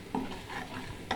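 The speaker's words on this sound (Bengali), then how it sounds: "ভাজা ভাজা করে নিব" Ground spice powder, cumin and mixed masala, fries in a pan with a soft sizzle and two brief stirring scrapes, close and quiet.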